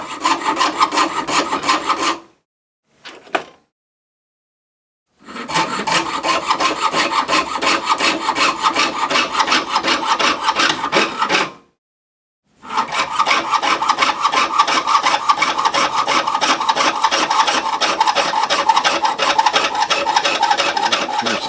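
Rough trimming of a silver ring by hand produces close, steady rasping strokes. The back-and-forth scraping runs in long bursts with two short pauses.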